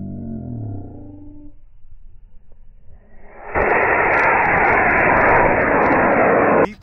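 An Estes model rocket on an E-30T motor goes off after a low, muffled voice. A sudden loud, steady roaring hiss runs for about three seconds and then cuts off.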